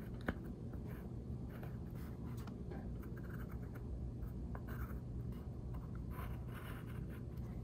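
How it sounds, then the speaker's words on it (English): Pencil scratching steadily across a Dollar Tree cork frame being altered with a strawberry design, a close, continuous soft scraping with a low background hum throughout and no voices. "So now might be a better time to come back in with the pencil."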